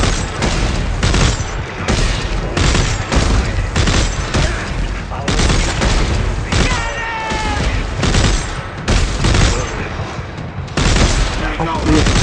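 Dense, loud gunfire fills the scene in the video game Dead Space 3, with rapid shots and booms pounding almost continuously, and a voice talks over the barrage.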